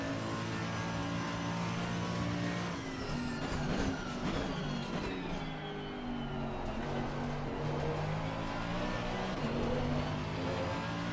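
A V8 race car engine in Assetto Corsa Competizione roars loudly and continuously, its pitch climbing and dropping through gear changes as the car accelerates out of a corner, with steady rumbling harmonics throughout.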